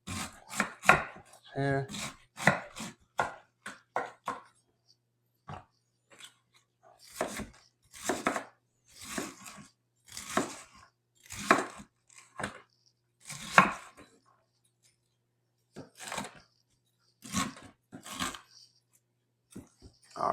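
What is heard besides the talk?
knife chopping cabbage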